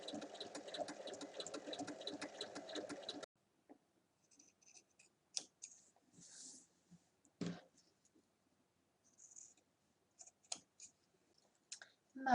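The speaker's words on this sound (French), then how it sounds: "Et on va venir faire une surpiqûre tout le long." A sewing machine topstitches along the seam of a bag with a large zippered pocket, a fast, steady mechanical rattle for about three seconds, followed by quiet handling clicks and rustles of the fabric.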